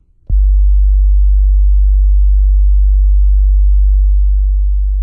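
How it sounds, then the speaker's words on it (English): A single deep 808 kick from a VIP Soundlab synth sample hits and then sustains as a long, smooth sub-bass boom that slowly fades, loud and clean with nothing else. "I have a VIP Soundlab 808 kick loaded up right now"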